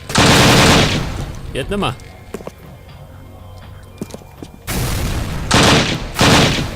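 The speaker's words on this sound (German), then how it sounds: "Wer schießt da?" Heavy bursts of gunfire in the shooter game Übersoldier, set in a prison cell level. Loud sustained volleys open and close the stretch, with a quieter gap between them and a brief spoken line.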